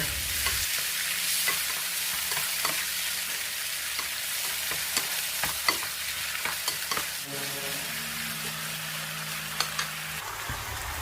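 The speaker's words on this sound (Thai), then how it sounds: "จากนั้นเราก็คนส่วนผสมให้เข้ากันนะคะ" Stir-fried squid with yellow chilies and sauce sizzles in a hot pan while a utensil scrapes and stirs with irregular clinks, loud and close, with no talking.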